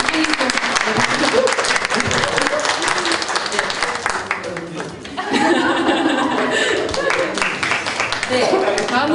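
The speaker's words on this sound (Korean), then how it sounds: "박수!" An audience at a community event claps loudly and continuously, with some chuckling and chatter mixed in, the applause briefly dipping midway before swelling again.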